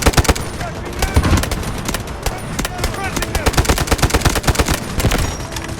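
Rapid automatic gunfire from the Delta Force video game, dense overlapping bursts of shots that run continuously and loudly, with a voice briefly mixed in.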